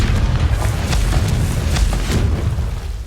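Loud, sustained blasts of the Confringo blasting spell in Hogwarts Legacy, a dense rolling roar of explosions with repeated sharper bursts running through the whole stretch.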